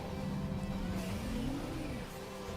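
A motorcycle engine revving in a video game trailer featuring Samus, a continuous roar with a pitch that climbs and falls once midway, sustained for the whole stretch.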